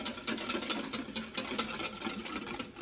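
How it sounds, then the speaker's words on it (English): Egg mixture for eggs Benedict whisked in a bowl set over a double boiler, a quick steady run of light, scratchy clicking strokes close by with no talking. "and then you just whisk it."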